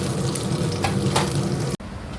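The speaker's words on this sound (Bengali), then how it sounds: "মাছ ভাজা প্রায় কমপ্লিট মা বাবার একটু কড়া করে ভাজা হচ্ছে" Fish sizzles and crackles as it fries in a pan, a close, steady hiss that cuts off abruptly near the end.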